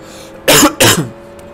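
Two harsh coughs in quick succession, close and loud, with a brief pause between them and quiet afterward.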